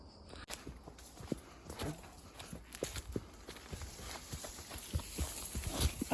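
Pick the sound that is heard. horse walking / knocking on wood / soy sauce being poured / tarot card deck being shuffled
horse walking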